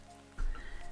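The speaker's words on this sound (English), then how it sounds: "I don't like staying out in the rain" Rain falls steadily in a modded Minecraft world, a soft hiss that swells suddenly partway through and keeps going evenly, faint and low in level.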